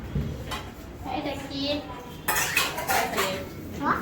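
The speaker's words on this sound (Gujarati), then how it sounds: "વાસણ ઘસવા બેઠી છે." Cutlery and dishes clatter and clink as someone washes up by hand at home, with scraping bursts near and fairly loud, a quieter stretch between, and faint voices in the background.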